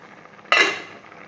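A metal lid comes off a kadai of boiling rice with one sharp clank that rings briefly and fades, then quiet.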